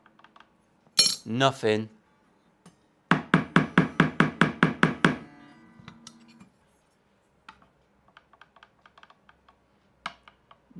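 Tapping down the frets on an inexpensive Ibanez electric guitar: a quick run of about eleven sharp, evenly spaced knocks with ringing string overtones, near and fairly loud, then scattered fainter taps.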